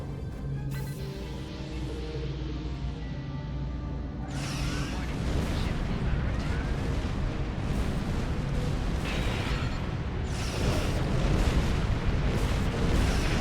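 Starship weapons fire automatically in the space game Star Trek Online, a continuous barrage of booming blasts and bursts that keeps a loud, dense roar going throughout, intensifying after the first few seconds.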